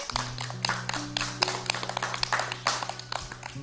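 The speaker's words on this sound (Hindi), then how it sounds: "तालियां एक बार" A small group claps in quick, uneven bursts for a child reciting a poem on a children's TV programme, close and lively, over a low steady hum.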